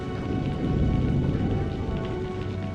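Heavy rain pours in a cartoon, a dense steady hiss of falling water with a low rumbling undertone, continuous and fairly close for a few seconds with no voices.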